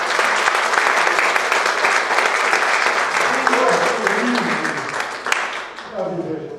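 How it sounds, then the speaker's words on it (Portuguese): A church congregation at a worship service claps loudly and continuously, then the applause thins out as voices rise beneath it near the end. "Pode aplaudir o Senhor."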